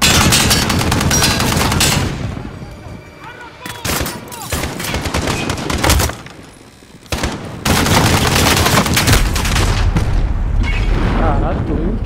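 Heavy gunfire and booming explosions from the video game Call of Duty: Modern Warfare, loud dense bursts broken by two brief lulls, with a voice talking over parts of the action.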